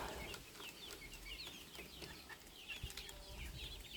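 Cochin chicks and young roosters in a poultry yard give faint, scattered high cheeps and soft clucks, with occasional light rustling of wings and no voices.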